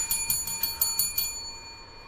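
A bell is rung about seven times in quick succession, each strike bright and ringing, close and fairly loud, then the tone fades out alone with no talk.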